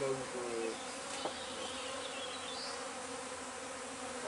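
Honeybees at an open beehive produce a dense, steady buzzing swarm close by, with a brief faint voice at the start.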